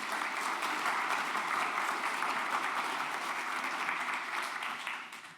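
Sustained audience applause at a Codegarden 2025 software conference talk, a dense even wash of many hands clapping that holds steady and begins to fade near the end, with no talking over it.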